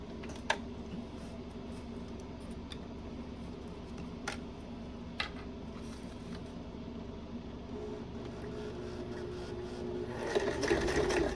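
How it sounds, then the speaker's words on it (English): A sewing machine backstitching waterproof canvas runs as a low, steady mechanical whir for the whole stretch, fairly quiet, with a few light clicks and a slightly louder rattle near the end. "since it's my waterproof canvas, I will backstitch"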